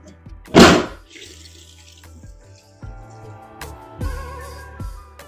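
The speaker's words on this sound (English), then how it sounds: "I'm gonna cover it with water" Water splashes into a cooking pot of kidney beans in one brief, loud pour, followed by several dull knocks and clunks as the pot is handled, close up with no talking.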